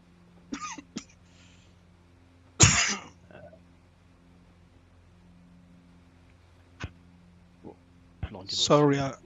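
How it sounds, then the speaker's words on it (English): Several bursts of coughing and throat clearing, near and fairly loud, separated by quiet pauses, with a voice speaking at the end. "Sorry about my cough"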